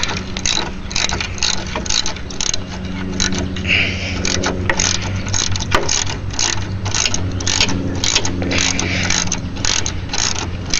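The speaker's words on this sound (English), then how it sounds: "loosen up the bolt that you're going to use" A ratchet wrench loosens a bolt on a car for mounting an HID xenon ballast, giving a close, rapid, continuous clicking with steady rhythmic strokes.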